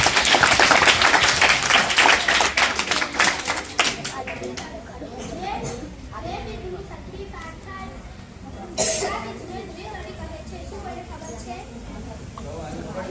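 Students clap at a school National Science Day celebration, a dense burst of applause that fades over a few seconds into chatter and children's voices, with a brief second flurry of claps later.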